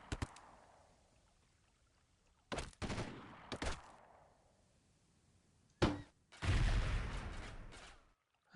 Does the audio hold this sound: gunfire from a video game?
yes